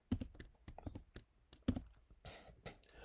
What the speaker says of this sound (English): we're going to type in system dot out dot println, and we're going to type in hello world